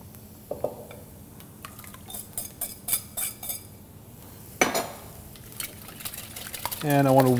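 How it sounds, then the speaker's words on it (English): Eggs with grated Parmesan, chopped Italian parsley and salt are whisked in a bowl, making a run of quick, light clinks and taps that come in bursts, ending with a brief louder rattle. "I want to whisk it until all the egg yolks are broken up and it becomes slightly fluffy"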